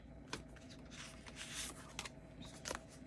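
An oracle card deck being shuffled by hand gives soft, quiet riffling and flicking card sounds in a steady close-up patter, with no speech.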